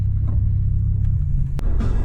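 A Buick car engine runs with a steady, loud low rumble close by, and one short sharp click partway through.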